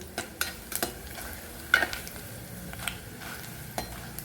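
Dried vegetable vathal fries in hot oil for vatha kuzhambu, with a soft bubbling sizzle broken by scattered utensil clicks and one sharper clink partway through. No voices are heard.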